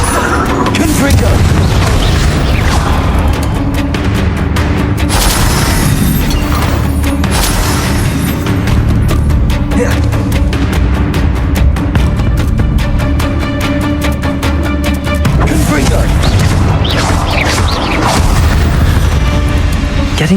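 Confringo blasting spells fire repeatedly in Hogwarts Legacy, mixing continuous booming explosions with mechanical crackle under a loud, dense game soundtrack, while a voice speaks over the action.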